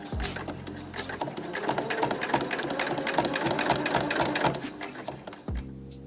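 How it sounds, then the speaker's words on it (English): A sewing machine runs steadily for about five seconds, stitching bias tape onto the edge of a fabric medical-style mask, its rapid needle clatter loud and close, starting and stopping abruptly with a quiet pause near the end. "Finish sewing the entire length of the bias tape."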